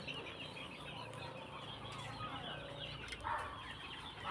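Fighting rooster clucking and soft crowing sounds among a busy outdoor backdrop of birds, steady and moderately close, with no talking.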